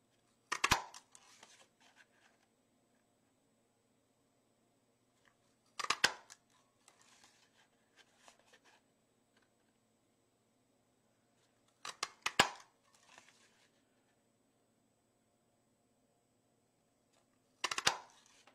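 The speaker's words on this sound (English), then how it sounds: "clamp down enough to hold it, and then I can punch with both fingers, or both hands" A hand paper punch bites through craft paper in four crisp, sharp snaps spaced several seconds apart, each followed by a faint rustle, in an otherwise quiet room.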